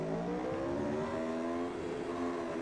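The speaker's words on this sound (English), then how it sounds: "you can hear the engine noise" Racing motorcycle engine in a circuit racing game, a loud sustained whine with pitch climbing and shifting through gears, heard close and alone.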